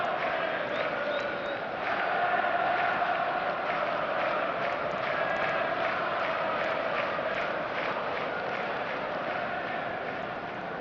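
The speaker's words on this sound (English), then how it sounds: "This crowd doesn't do ordinary, and we should be in for something very special" Match-day crowd at a Manchester United football game, a dense continuous roar of many voices filling the stadium, steady and loud throughout with no single voice standing out.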